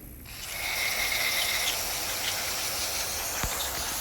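Cleaner sprays from a can in a steady hissing burst onto a Kohler 149cc carburetor from a Toro mower, caked with heavy dirt, running continuously at close range without talk.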